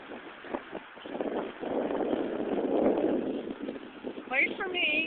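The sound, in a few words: wind blowing at the beach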